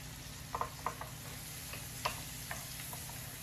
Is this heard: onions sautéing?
yes